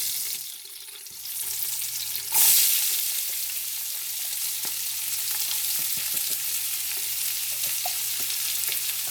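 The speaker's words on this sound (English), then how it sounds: "So we're going to start frying these up a little bit right here." Pork chops and onions sizzle and crackle steadily in a hot pan, with a brief louder hiss partway through as something is stirred or added, no talking.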